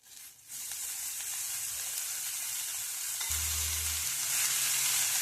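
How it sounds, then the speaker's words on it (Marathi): Chopped coriander leaves sauté in a pan for kothimbir vadi, a steady loud sizzle and hiss throughout with a low hum entering partway, and no voices. "ही 2 मिनिटं अशी व्यवस्थित परतून घेऊ।"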